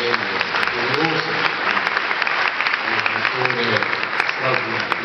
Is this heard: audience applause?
yes